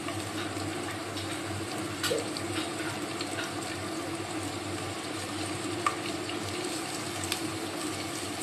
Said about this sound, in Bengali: পেঁয়াজ কুচিগুলো একটু ভেজে নেব।